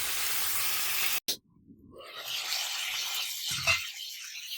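Brinjal sautéing in oil gives a soft, close sizzling hiss that cuts out briefly with a knock, then returns and builds into a steady fry.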